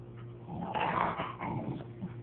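Two dogs growl low and rumbling, jealous over a mat, with brief whimpering and yipping notes breaking in; the sound is close, fairly quiet, and swells in the middle before settling.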